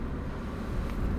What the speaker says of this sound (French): on accélère et on met la 2